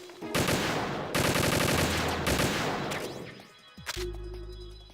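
PSG1 sniper rifle fire in Metal Gear Solid 2, a few loud, close game gunshots with long ringing decay between them, followed by a softer mechanical clatter and a low rumble.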